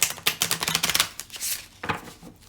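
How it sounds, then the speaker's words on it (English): Tarot cards are shuffled close by in quick riffling bursts of papery flutter and clatter, then a brief pause and a shorter final shuffle. "So give it a few good shuffles."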